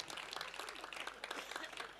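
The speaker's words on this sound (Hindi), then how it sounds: "आपको विश्वास हो तो ताली बजा देना" An audience at a live Hindi stage performance claps, giving a faint, steady patter of applause with no voices over it.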